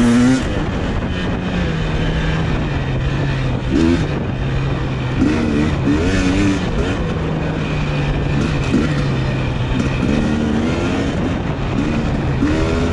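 A 2021 KTM 300 XC dirt bike engine drones continuously, its pitch rising and falling as the throttle is worked over uneven riding, with wind rush throughout and no speech.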